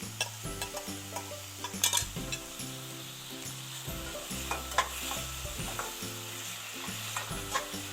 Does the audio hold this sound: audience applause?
no